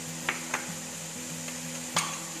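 Onion and garlic sautéing in a pan for a Ramzan special chicken cutlet: a low steady sizzle with a faint hum, broken by a few sharp clinks of a spoon stirring against the pan.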